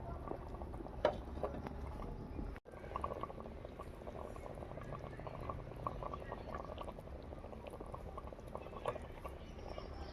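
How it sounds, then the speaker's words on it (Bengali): Chicken curry cooked village-style in a clay pot over a wood fire keeps bubbling after coming off the heat, a quiet, continuous simmering burble with no talk over it. "মাংসটা নামিয়েছি অনেকক্ষণ, তাও যেন মনে হচ্ছে এখনো ফুটছে।"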